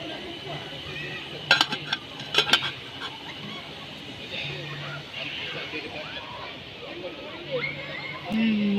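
Metal pots and utensils clink and scrape at a campsite while dinner is cooked, a few sharp clinks bunched early over steady outdoor background with voices talking nearby.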